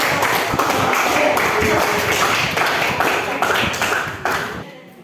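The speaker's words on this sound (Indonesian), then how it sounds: "Beri tepuk tangan dulu" A high school classroom full of students claps together in sustained applause for several seconds, fairly close, before it stops abruptly near the end.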